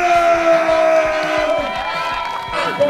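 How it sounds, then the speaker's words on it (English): Crowd cheering and clapping for a rider at a 2017 event, with a sustained tonal sound over broad noise and a rising burst at the end. "can I get a live round of applause"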